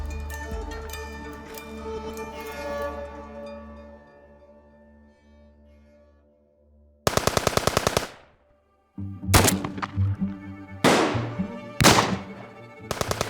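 Bursts of automatic gunfire from the 1963 Bloody Christmas violence in Cyprus break in after a low sustained musical drone, coming as several loud, sharp volleys separated by short silences.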